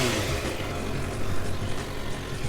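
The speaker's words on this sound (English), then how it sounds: "let me turn on the bike and let you guys hear the stock exhaust" The stock exhaust of a 2019 Suzuki GSX-R600 sportbike idles with a steady, dense engine rumble. It is close and fairly loud, with slight swells but no sharp revs and no talk.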